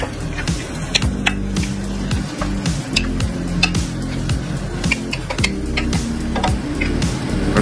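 Imitation crab and baby shrimp filling being stirred in a pan for stuffed bell peppers, with steady scraping and soft sizzle plus frequent sharp utensil clicks against the pan, loud and close with no talking.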